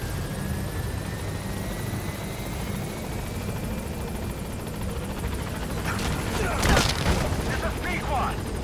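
A helicopter's rotor thrums steadily at a distance under a muffled background in the video game Metal Gear Solid V: The Phantom Pain, with a burst of sharp noise rising near the end.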